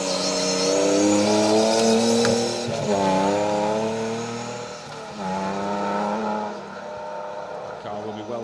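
Datsun 240Z rally car on a Roger Albert Clark Rally stage, engine note loud and sustained, rising and falling through gear changes as it approaches and passes, with a commentator talking over it.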